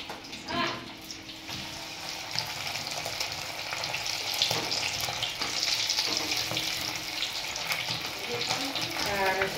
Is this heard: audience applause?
no